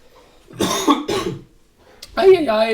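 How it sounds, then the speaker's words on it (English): Two harsh coughs in quick succession, close to the mic, followed after a short pause by a voice speaking. "Really bad that I have such a big cough"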